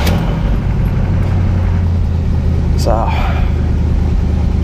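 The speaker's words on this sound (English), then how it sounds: "fires right up under neutral." A 1970 Buick GS V8 cranks and fires up in neutral, settling into a loud, close, rumbling idle with a brief rev partway through, while someone talks over it.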